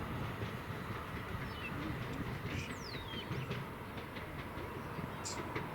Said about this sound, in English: I can see there's another train approaching.